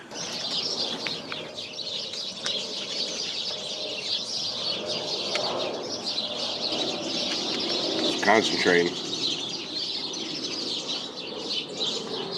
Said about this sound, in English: Birds in this tree, you hear them, they dump over everything.